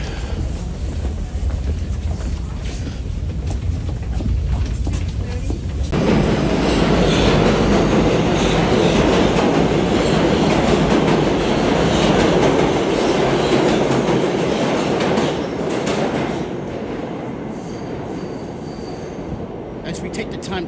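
A New York City subway train rumbles loudly and steadily underground, growing louder partway through with a dense roar of wheels on rail that holds for much of the run before easing slightly, with faint voices in the background.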